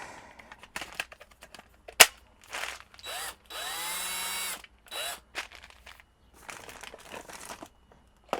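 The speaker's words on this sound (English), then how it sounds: "Let's see if this power drill works" A power drill boring pilot holes into a wooden plank for M3 screws while building a small shelf: a few short whirring bursts, the longest lasting about a second, separated by clicks and handling noise.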